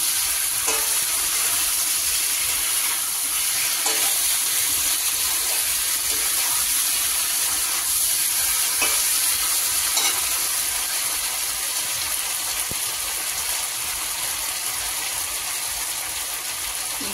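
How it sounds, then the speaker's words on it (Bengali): Tilapia fish curry with potatoes and drumsticks frying in a pan as water goes in for the thin gravy, a loud, continuous close hiss and bubbling sizzle with faint scrapes, no talking. "ঝোলের জন্য জল দিয়ে দিচ্ছি।"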